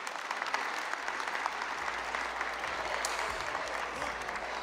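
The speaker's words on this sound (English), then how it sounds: "Please give him a round of applause." Audience applause at a public event with the Illinois governor and Chicago mayor on anti-gun violence programs, a steady, full wash of clapping from a sizable crowd that holds at even loudness throughout, with no talking over it.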